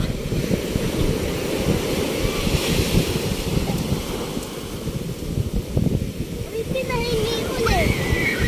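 Sea waves wash continuously onto a beach in rainy, rough weather, a dense roaring surf with wind buffeting the microphone, while people talk faintly over it.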